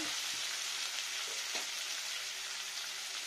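Potatoes sizzle steadily in a pan of oil, cooked with cabbage, green chilli and spices for a vegetarian dish. The continuous, close frying hiss stays loud throughout with no talking.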